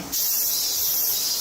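Loud summer cicadas drone in a dense, continuous high-pitched buzz that starts abruptly and holds steady throughout.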